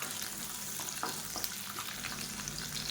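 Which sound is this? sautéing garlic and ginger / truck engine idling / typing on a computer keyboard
sautéing garlic and ginger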